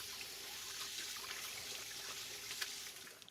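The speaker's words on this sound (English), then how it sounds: "I'll wash my hands" Hands rinsing under a running kitchen tap after handling tortilla batter, a steady close hiss of flowing water splashing into a sink, continuous and alone.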